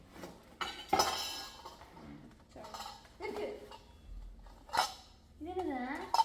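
Metal cooking pots and utensils clink and clatter in a few sharp bursts as they are unpacked, while people talk quietly nearby.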